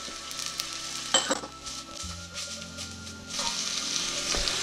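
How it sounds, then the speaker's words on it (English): Chopped onions sizzle in a pan with salt and pepper, a steady bright crackle interrupted by a few clatters and scrapes from stirring, close by and with no talk. "So we're just going to cook the onions down here until they're a little translucent and start to soften."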